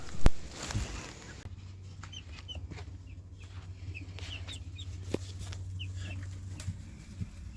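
Chickens cluck softly in the background over a steady low hum, with a few sharper bird calls scattered through.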